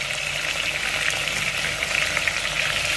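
Chicken frying over high flame in a pan with salt and ginger garlic paste for chicken korma, making a steady, close, bright sizzle with faint crackles and no talking.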